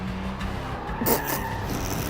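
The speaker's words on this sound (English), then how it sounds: "She's proper skidding the car all around now, but still full acceleration" A race car skids around a track under full acceleration, its engine droning loudly beneath a sharp burst of tire squeal about halfway through, with no one talking.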